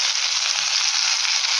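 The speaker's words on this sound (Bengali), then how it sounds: "তরকারিগুলো একটুখানি আমি ভেজে নেব।" Vegetables frying in a pan for a curry, with a steady, bright, even sizzle close by and no talking.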